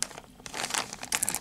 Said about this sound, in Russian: Давайте приступим к распаковке пакета.